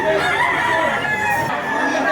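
A rooster crows at a chicken market in Batangas, one drawn-out cock-a-doodle-doo close and loud, with market murmur and other fowl clucking behind it.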